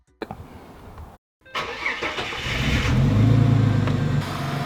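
A car engine cranks briefly, cuts out, then catches and settles into a steady, loud idle that builds slightly in rumble.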